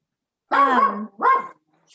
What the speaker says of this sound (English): my dog started barking as soon as you unmuted me.